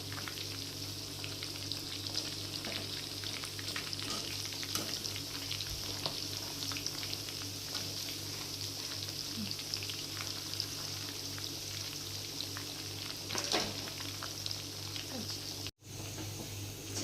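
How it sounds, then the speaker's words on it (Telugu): Chicken pakodi deep-frying in hot oil, a steady, dense sizzle with crackling pops that runs continuously at close range, with a brief dropout near the end. "చికెన్ అయితే ఇంకా బాగా వేగిన ఫ్రెండ్స్ ఇంకా తీసేసుకుంటాను"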